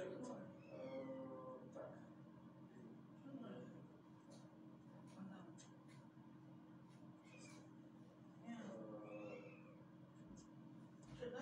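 A cat meows a few times indoors during an exercise class, its calls rising now and then over a person talking steadily throughout.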